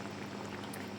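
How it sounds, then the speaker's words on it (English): Cooking cream pours into a hot pan of pasta sauce, a continuous sizzling, bubbling wash of liquid at close range with no voices. "Next, put in our cream,"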